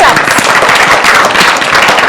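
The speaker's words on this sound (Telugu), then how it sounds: "ఒకసారి గట్టిగా క్లాప్" Loud, dense applause from the audience on a Telugu TV game show, a continuous roar of many hands clapping that fills the whole stretch without pause.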